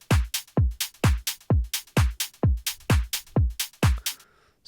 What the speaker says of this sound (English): It's a 4 on the floor beat.